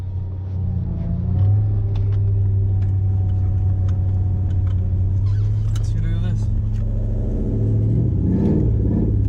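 A Toyota Hilux with a 1UZ V8 engine drones steadily on a test drive, its low engine hum close in the cabin with one brief dip as it cuts out, and people talk over it toward the end.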